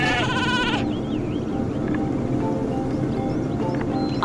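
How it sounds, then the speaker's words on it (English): Sheep bleat in the video game Skylanders Spyro's Adventure, a run of wavering cries over busy game ambience with hoof-like clatter, after a brief bright musical flourish at the start. "Honestly, Hugo, they're just sheep."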